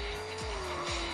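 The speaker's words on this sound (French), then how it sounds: "Le moteur rugissant. Il miaule pas ce moteur, hein." A car engine in a driving simulator video game roars at a steady high pitch with tire squeals and skidding swept through it, loud and continuous over the short stretch, with no talking.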